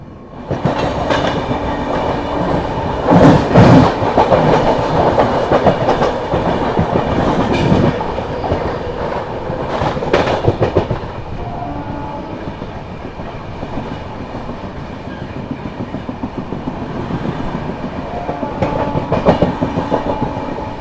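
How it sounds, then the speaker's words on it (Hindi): The Prayagraj Humsafar Express, a non-stop train, rolls past at close range with a steady loud rumble and rhythmic clickety-clack of wheels over rail joints, sustained for the whole stretch without voices. "आप लोगों को दिखाता हूँ सौर से जा रही है अपनी प्रयागराज हमसफर एक्सप्रेस जाती हुई, नॉन स्टॉप वाली"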